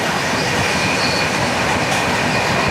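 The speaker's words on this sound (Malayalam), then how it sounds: "ഒരു ജനശതാബ്ദി ഒരു സമ്പർക്ക ക്രാന്തി ഓവർടേക്ക് ചെയ്യുന്നു." A Sampark Kranti express runs at full speed past a Janshatabdi. The steady, loud rail roar and wheel rumble go on without a break, heard close from on board.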